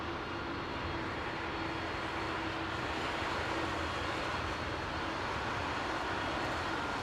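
Aircraft at London Heathrow Airport produce a steady, broad roar of jet engines, heard continuously at moderate distance without any voices.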